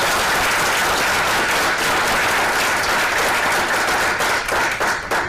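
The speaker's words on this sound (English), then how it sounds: "Let's stop at this point and just give them a round of applause." Sustained loud applause from an audience at a school board meeting honoring retirees, dense clapping filling the room without pause for several seconds.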